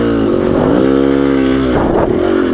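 A two-stroke motorcycle engine running hot while being ridden drones loud and close, its tone rising and dipping slightly with throttle changes.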